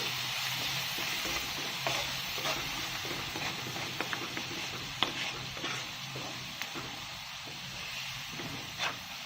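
A spoon stirs turmeric into a mixture frying in a pan for Indian poha, with a steady sizzle and hiss beneath scattered scraping strokes, close and fairly quiet, without speech.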